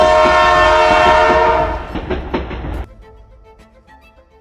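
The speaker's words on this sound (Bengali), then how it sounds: "হাওড়া থেকে আমাদের ট্রেন গন্ডিয়া এসে পৌঁছালো" A train pulls into Gondia station on a run from Howrah, loud and close with a sustained horn blast and rumbling rail clatter that cuts off sharply, leaving quieter platform noise behind.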